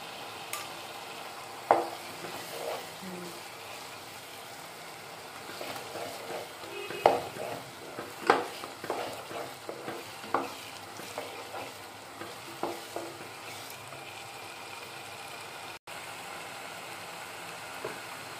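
Cumin, coriander and garlic paste fries in a pan under a low, steady sizzle. Scattered spoon scrapes and knocks come at irregular moments, close to the listener, with no talking.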